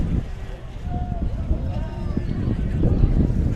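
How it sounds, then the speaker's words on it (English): Steady low rumbling wind buffets the microphone throughout at a high school swim meet, with faint distant sounds underneath and no clear speech. "A little windy here, so apologies for that."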